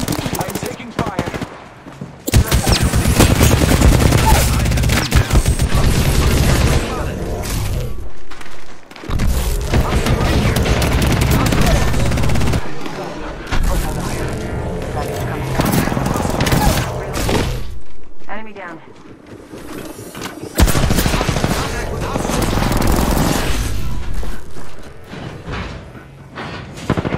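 Dense, loud gunfire fills a battle royale video game match, with sustained automatic bursts, booms and impacts in long stretches broken by brief lulls, while a voice talks over the action.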